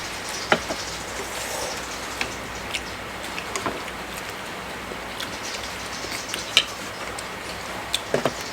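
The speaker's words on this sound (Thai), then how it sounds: "ตอนนี้สารคามมีฝนตกนะคะ" Steady rain falls in Sarakham with a soft continuous hiss, with scattered sharper drips and taps landing on a hard surface nearby.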